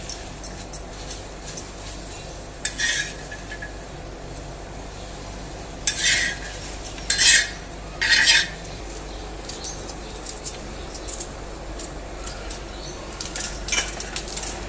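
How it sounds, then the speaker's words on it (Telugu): Okra is stirred in a dry pan with no oil, heard as a few separate bursts of spatula scraping against the pan over a quiet, low background. "నూనె వేయకుండా ఓ ఐదు నిమిషాలు ఇలాగే కలుపుకొని ఈ జిగురంతా పోయే వరకు ఇలా కలుపుకోవాలి"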